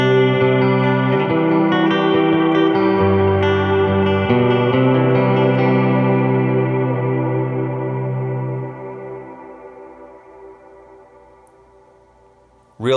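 An ambient electric guitar runs through a Strymon Blue Sky reverb, a few sustained notes blooming into a long reverb tail that fades gradually over several seconds, followed by a short sharp sound at the very end.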